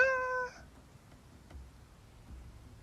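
A single short, bright cat meow at the start, close and fairly loud, then quiet room tone with faint low thumps.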